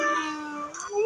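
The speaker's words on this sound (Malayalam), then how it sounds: "ഇതാ ക്യാറ്റ്." A cat character in a video game gives a single short, clear meow, close and alone.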